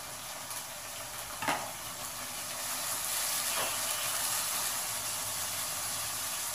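Prawns for a Bangladeshi bhuna frying in a pan, a steady bright sizzle with a couple of sharp crackles and spits near the start that swells slightly louder as it continues.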